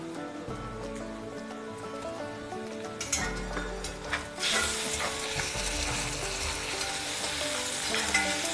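Ingredients frying in hot oil in a pan give a continuous sizzle that swells louder partway through as more goes in, with scattered clinks of a utensil stirring against the pan.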